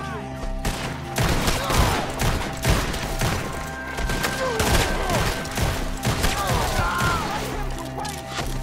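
Gunfire in Red Dead Redemption 2 during a shootout, with dense, continuous volleys of loud gunshots and crashes, with shouting voices mixed in.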